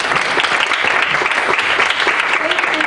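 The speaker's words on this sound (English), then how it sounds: "can we have a round of applause for our outstanding panel?" Audience applause for a panel at a conference session: loud, dense, sustained clapping from a large crowd filling the room, with faint murmured voices mixed in underneath.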